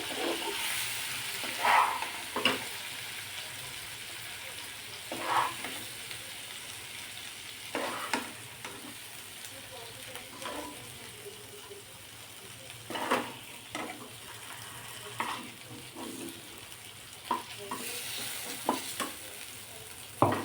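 Chicken sizzling and frying in a pan while butter chicken is cooked dhaba style, with a steady hiss broken by repeated scrapes and stirring bursts, moderately close with no talking.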